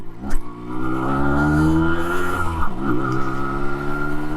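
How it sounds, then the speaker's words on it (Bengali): A Yamaha RX 100 two-stroke motorcycle accelerating hard under full throttle on a road, its engine note climbing in pitch, dipping briefly at a gear change, then rising again, loud and close. "তো দেখি একটা টান দিয়ে"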